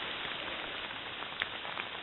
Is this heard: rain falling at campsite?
yes